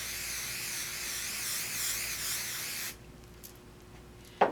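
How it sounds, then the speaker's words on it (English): Aerosol basting adhesive hisses steadily onto layered quilt fabric for about three seconds in a near, continuous spray, then cuts off, leaving quiet room tone and a brief sharp tap at the end. "we're going to spray our next piece."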